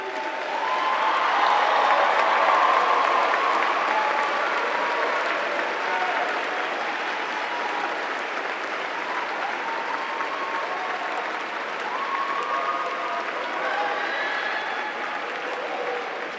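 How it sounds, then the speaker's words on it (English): An audience at a college commencement ceremony applauds honors graduates, a sustained, dense round of clapping that swells early and then holds steady from a distance. "We ask those graduating with honors to stand and be recognized with a well-deserved round of applause."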